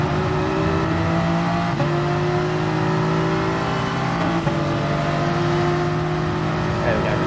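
A Porsche race car engine in GT Sport drones at a steady high pitch, with brief dips at gear shifts near two and four and a half seconds, while a person talks over it.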